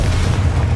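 A Confringo spell explodes in Hogwarts Legacy, a single short, heavy boom with a dense low rumble that fills the whole moment without a break.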